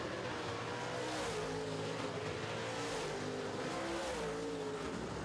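Late model race cars roar around a dirt track during a heat race, several engines overlapping in a continuous, loud drone with shifting pitches as cars pass and chase one another.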